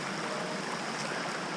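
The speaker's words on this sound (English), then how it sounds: "There's some waterfalls, a couple of waterfalls around here." Constant broadband rush of falling water from a waterfall near the Rivington area mines, steady and close, with no voices.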